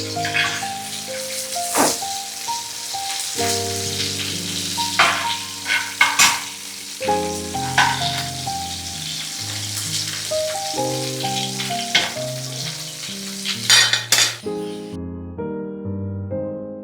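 Prawns sizzle and crackle in hot oil in a pan for Kerala-style prawn biryani, with occasional stirring clinks, while gentle background music plays throughout.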